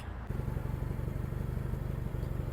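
A small 33-horsepower tractor engine with a cab chugs with a steady, throbbing putter, starting up abruptly and running evenly close by as the tractor drives out.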